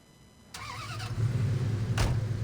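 Police car in Saints Row: an engine turns over and catches, then a low, steady rumble builds as the car pulls away, with a short burst of noise near the end.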